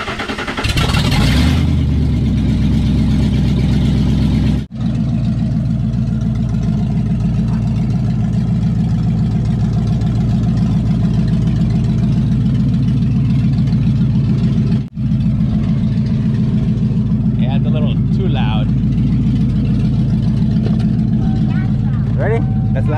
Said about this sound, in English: I am open headers right now, so it's gonna be pretty loud.